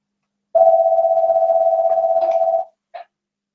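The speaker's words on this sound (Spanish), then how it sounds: "Perdonen que el teléfono suene." A telephone rings during a lecture, one long steady electronic tone lasting about two seconds followed by a short second burst, clear and alone without talk.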